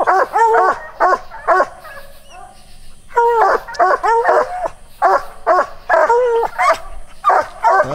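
Young coonhounds bay and bark repeatedly at a raccoon up a big tree outdoors, loud and close, in rapid irregular bursts with short pauses between volleys.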